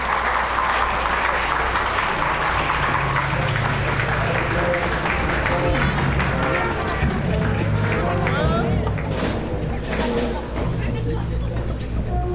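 A concert audience applauds before a philharmonic orchestra plays Tchaikovsky's Slavonic March at an Easter concert; dense, loud clapping fills the hall throughout, with crowd murmur mixed in.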